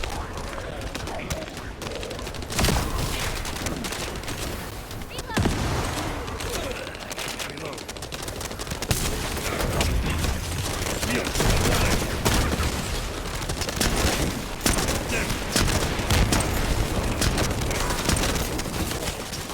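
Dense bursts of scout rifle fire in The First Descendant shooter game crackle and boom almost continuously, loud and close, with sharp volleys recurring over rumbling game sounds and a voice speaking at times.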